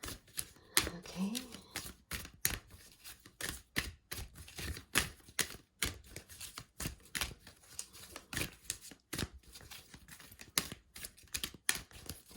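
Tarot cards being shuffled nearby, a quiet run of quick papery riffles and soft snaps in irregular bursts, with faint talking underneath.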